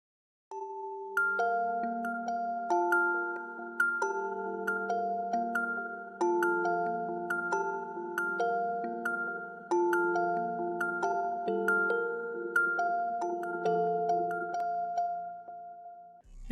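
Kalimbox synth plays a looping MIDI part of simple bass notes, a few accent notes and a repeating top line, bright plucked kalimba-like tones in a steady rhythm with no talking.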